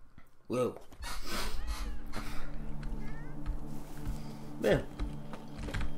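In the video game The Witcher 3, a cat meows a few times, short and fairly close, over steady game background sound, while someone talks in French.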